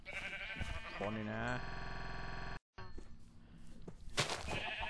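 Minecraft sheep bleating in the video game, a wavering tonal baa followed by a long steady buzzy tone, with someone talking over the game sounds.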